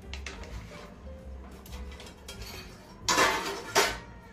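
Dhokla, an instant fasting version, is lifted out onto a plate with soft scraping and light metallic clinks of utensil against plate, then two louder clattering knocks near the end, close and quiet overall.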